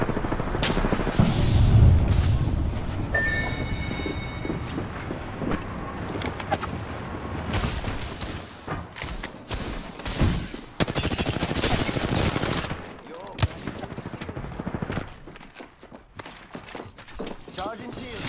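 Gunfire from a battle in Apex Legends, with dense bursts of rapid shots and impacts running throughout, mixed with other game effects and heavy chatter from people talking over it.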